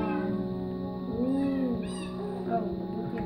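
Minecraft cats give a few short, high meows in the game, sounding close and a little electronic over a soft, even background tone.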